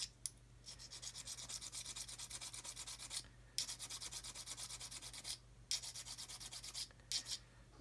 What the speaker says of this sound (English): I've got a little 400 grit stick and I can polish up the brass and make it look all nice and shiny